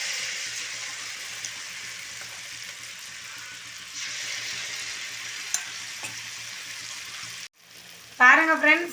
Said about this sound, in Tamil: நல்லா எண்ணெய் காஞ்சிடுச்சு. நம்ம இப்போ அப்பத்தை ஊற்றிடலாம்.